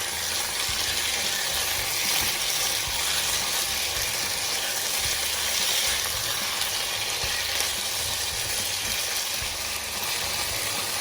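Beef and onions with marinade stir-frying over high heat, a steady, dense, close sizzle that holds level and unbroken for the whole stretch, with no voices over it.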